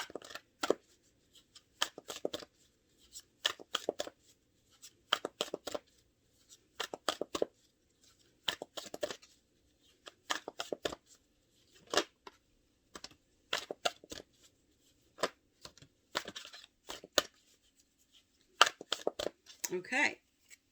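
Tarot cards are shuffled in repeated short riffling bursts, evenly spaced and close, with quiet gaps between each round and faint speech in the background.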